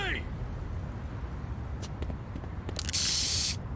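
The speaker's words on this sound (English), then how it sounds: "A little unique spray tag for Bobby there." An aerosol spray can hisses out a graffiti tag in the skateboarding game Tony Hawk's Underground 2, a short bright burst near the end over game ambience, with faint earlier hiss bursts and a voice in the background.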